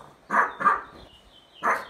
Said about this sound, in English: so this is like the first time I'm hearing her bark